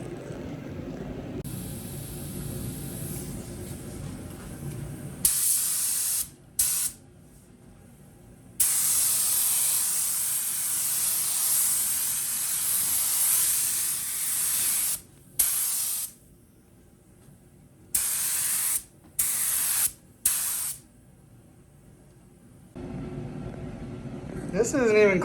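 A spray gun lays pearl paint mixed into intercoat clear on a Honda Civic, a loud steady hiss in long passes broken by short pauses, with a voice talking quietly at the start and end.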